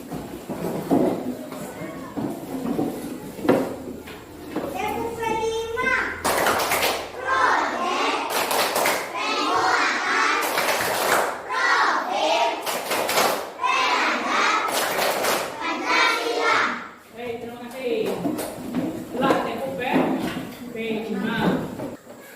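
A class of schoolchildren stands and performs the rhythmic P5 clapping chant, with bursts of sharp hand claps in a patterned beat mixed with young voices chanting together and a teacher speaking between rounds.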